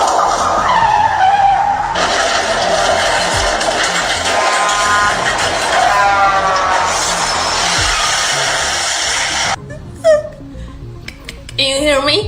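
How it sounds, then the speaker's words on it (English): Car tires skid and squeal loudly for several seconds in a crash, a harsh sustained screech that cuts off abruptly near the end, followed by a few short knocks. "I just had a car crash."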